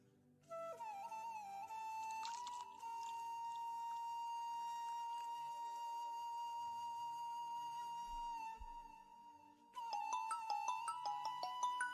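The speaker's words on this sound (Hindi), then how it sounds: "अरे पता नहीं काम करते टाइम किसका फोन आ गया" A phone ringtone chimes steadily and fairly clearly in a quiet room, a sustained electronic melody running several seconds before a busier burst of tones near the end.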